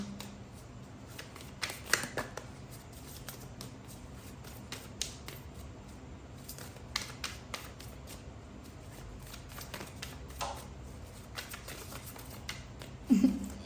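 Tarot cards are shuffled and drawn: soft riffling and flicking carries on through most of the clip, with sharper slaps now and then and a louder snap near the end, close and fairly quiet.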